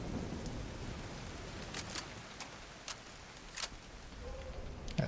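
Steady rain in a video game, a soft, even hiss with scattered sharp drops or clicks, fairly faint, with no voices.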